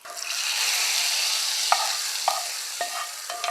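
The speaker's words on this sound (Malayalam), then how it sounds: "ഇനി നമുക്ക് നമ്മുടെ കറിയിലേക്ക് അങ്ങ് ഒഴിച്ചേക്കാം" Hot mustard seed, shallot and curry leaf tempering poured into an Alappuzha-style fish curry, giving a steady loud sizzle with a few sharp clinks of the pan or ladle near the end.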